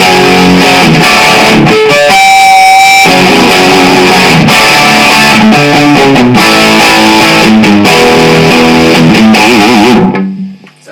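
Loud distorted electric guitar riffing through a song's lead-in to the chorus, with choppy rhythmic chords, a held bend around the second mark, and a quick fade at the end.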